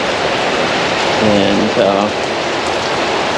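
Steady rain falls outdoors as a dense, continuous hiss of drops, loud and close throughout, with a brief spoken word breaking through near the middle.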